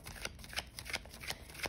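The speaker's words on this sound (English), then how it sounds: "let's start by taking a few deep breaths as I shuffle these cards" A deck of tarot cards is riffled in a quick, even rhythm of soft papery bursts, close and fairly quiet, with no talk over it.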